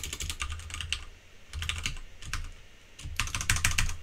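Rapid keystrokes on a Commodore 64 keyboard, clattering in dense bursts with short pauses between words, close and clear with no talking.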